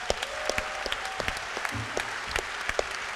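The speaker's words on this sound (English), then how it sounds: "Give all the winners and Mr. Koenders a big, big applause" A design event audience applauds the winners and Mr. Koenders with a moderate, steady patter of clapping and a few sharper individual claps standing out.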